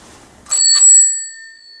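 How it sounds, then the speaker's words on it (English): Bicycle-style bell fitted on a Zundapp Combinette 428 two-speed moped during restoration, struck twice in quick succession with a bright metallic ring that decays slowly, alone in an otherwise quiet room. "I've put on the bell as well."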